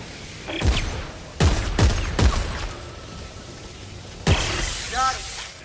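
Gunshots fired in Dead Space 3 at an electrical trap control box: a few loud, sharp single shots spaced irregularly, followed by a heavier blast with metallic ringing and a whirring tail.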